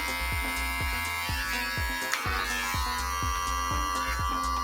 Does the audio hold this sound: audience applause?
no